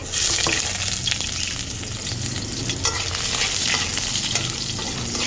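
Garlic frying in a hot pan, a loud, steady crackling sizzle with scattered pops and stirring noises throughout; no talking.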